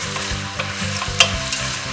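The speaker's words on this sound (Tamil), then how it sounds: "வெங்காயம் நல்லா ப்ரௌன் ஆகிற வரைக்கும் வதக்கிக்கோங்க." Onions sauté in a pan for mutton biryani, a loud close sizzle with repeated scraping stirs of a spoon and one sharp clink against the pan.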